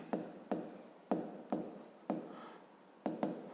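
Handwriting during a math exercise, several short scratchy pen strokes on paper in quick bursts with pauses between, heard close and alone.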